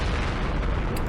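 Tank cannon fire and hits in the Campaign Series Middle East wargame, Gebel Libni battle: one dense, loud booming rumble that fills the whole moment with no break.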